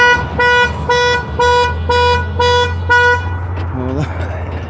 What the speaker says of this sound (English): Now the beeper's going off.